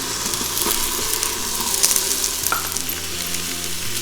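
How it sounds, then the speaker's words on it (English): Diced potatoes sauteing with garlic, green chilies and coriander paste for mutton pulav, a steady close sizzle with stirring scrapes running throughout, no voices. "And I'm going to also saute the potatoes."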